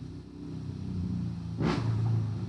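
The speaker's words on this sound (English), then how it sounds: "that noisy car's going by" A noisy car drives past outside a backyard, swelling briefly into a loud whooshing pass before fading back into a steady low rumble.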